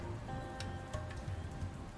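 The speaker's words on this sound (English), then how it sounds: "Raining in the swamp." Steady rain falling in a swamp in the Dustland Delivery video game, a soft continuous patter of drops at low volume with no voices.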